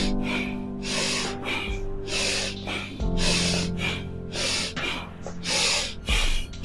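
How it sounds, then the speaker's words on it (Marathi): Long, deep breaths drawn during a yoga exercise, heard as repeated audible inhales and exhales over steady background tones, close and fairly loud. "लांब श्वास घ्यायचा"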